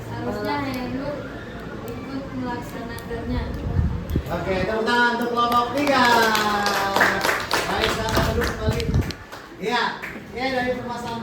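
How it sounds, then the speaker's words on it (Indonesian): Students clap for a group in a classroom, scattered, uneven hand claps that rise in the middle and fade, heard under children's voices and chatter throughout. "tepuk tangan untuk kelompok 3"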